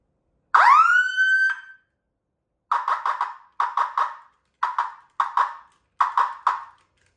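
An electronic security alarm siren in a generator building wails up once, then breaks into several short bursts of rapid warbling beeps separated by brief pauses, loud and close.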